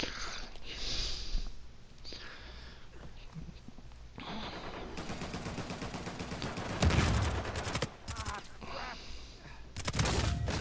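Gunshots in a shooter video game, with dense bursts of rapid fire and sharp single shots, fairly loud against a noisy game background, with brief talk from a player.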